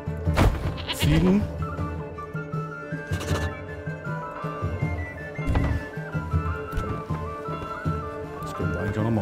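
Goats in the medieval village-building game Manor Lords bleat in short, repeated calls, some close and loud, over a bed of game music and ambient thuds, with someone talking over parts.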